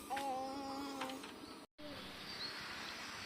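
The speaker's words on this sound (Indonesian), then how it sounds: "Burung dara, itu rumahnya." Pigeons coo softly outdoors in a few low, rolling calls, fairly faint against quiet ambient background.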